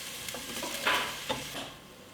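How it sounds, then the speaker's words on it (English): Fresh onion and garlic fry in a pan, giving a steady close sizzle broken by brief scraping stirs, with one louder hiss flaring near the middle before it fades toward the end. "Get the onion to fry, and now we go put a fresh onion and fresh garlic."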